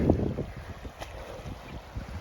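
Gusty winter wind buffets the microphone outdoors at the lake Llyn y Fan Fawr, a low rumbling whoosh that rises and falls, with faint lapping water beneath.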